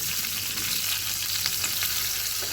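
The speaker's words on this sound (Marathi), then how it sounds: "याच्यामध्ये आपण या मिरच्या परतून घेणार आहे." Green chillies sautéing in a little oil in a small kadhai, a continuous close sizzle and crackle with faint stirring, no voices.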